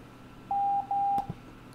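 Two clean, identical electronic beeps of steady pitch, a longer dah then another dah, sounding Morse code for the letter M during a practice lesson, followed by a faint click.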